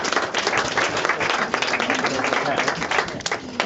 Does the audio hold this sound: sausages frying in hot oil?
no